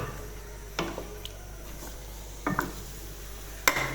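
Pieces of desi chicken fry for murgh karahi in oil that is still heating, with a soft, low sizzle underneath a few sharp clinks and scrapes of a utensil stirring the pan.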